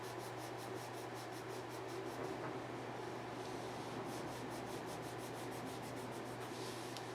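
Colored pencil burnishing on paper: a steady, quiet, dry rubbing with faint rhythmic back-and-forth strokes that keeps going for several seconds over a low background hum, no voices.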